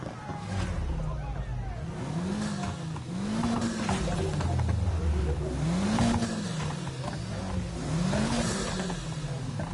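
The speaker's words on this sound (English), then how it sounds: "you can hear the blow off on one, and then you can hear the other one just after" An engine revs over and over and its turbo blow-off valves vent in quick pairs, one right after the other, a repeating whoosh-and-flutter pattern that stays up close, with talk partly underneath.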